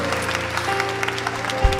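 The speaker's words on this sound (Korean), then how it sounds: "박수 격려 부탁드립니다." Church congregation applauding during a Children's Day worship service, with a brief burst of claps over a sustained organ-like tone, fairly quiet and short.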